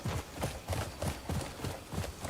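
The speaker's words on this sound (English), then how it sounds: "Oh, look, it's my horse." Horse hooves clip-clop in a steady repeating gait in the Crimson Desert video game, close and moderately loud, with no talking over them.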